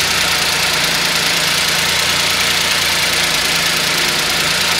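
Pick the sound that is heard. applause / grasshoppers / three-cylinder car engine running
three-cylinder car engine running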